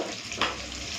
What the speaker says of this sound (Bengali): প্রথমে আলুগুলো ভেজে নিই